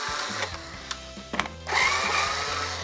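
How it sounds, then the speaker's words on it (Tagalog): An electric screwdriver backs screws out of a printer, with short whirring motor bursts and clicks, then a louder sustained whine. "para mas mabilis ito, gagamit ako ng electric na screwdriver"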